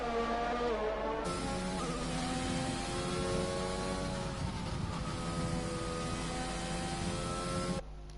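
Formula 1 race cars screaming past in an F1 video game at Belgium's circuit, high-revving engines rising and falling in pitch as gears shift, a continuous loud whine with a cut of sound near the start and end.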